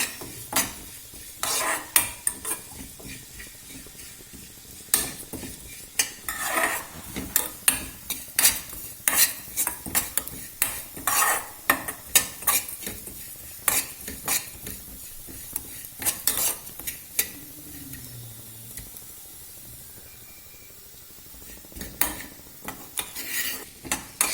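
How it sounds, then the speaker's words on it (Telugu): Cumin seeds fry in a pan for Andhra-style curry leaf powder, with a continuous crackling sizzle broken by frequent sharp scrapes and taps of a spoon stirring against the metal. "తర్వాత జీరా వేసి ఫ్రై చేయాలి."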